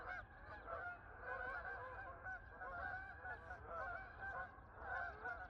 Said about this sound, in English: Look at that flock of geese.